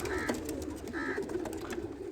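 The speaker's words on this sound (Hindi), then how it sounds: "ये देख लें, ये कबूतर" Caged pigeons coo softly nearby, low throaty calls repeating over a noisy background with occasional clicks and rustling.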